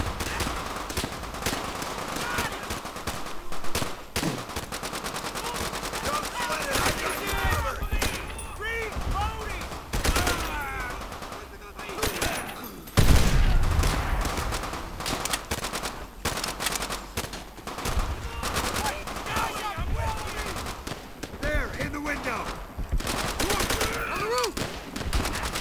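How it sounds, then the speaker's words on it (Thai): Bursts of machine gun fire and scattered gunshots crackle throughout a Call of Duty: World at War battle on Veteran difficulty, with a voice talking intermittently over the shooting. "ต้องใช้ปืนกล"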